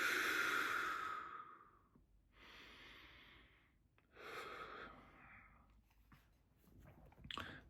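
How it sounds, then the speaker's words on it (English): Slow, deep breaths in and out, a long airy exhale followed by quieter inhales and another exhale, close and soft with no talking. "We're going to breathe in and breathe out."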